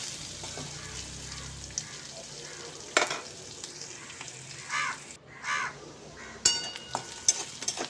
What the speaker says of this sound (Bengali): পেঁয়াজটা দিয়ে আমি পেঁয়াজটাকে একটু লাল লাল করে ভেজে নেব